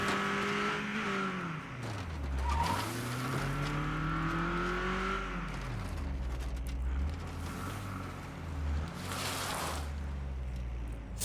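Car engine in State of Decay 2 droning steadily and close, its pitch rising and falling as it accelerates and eases off, with a hissing whoosh passing through midway.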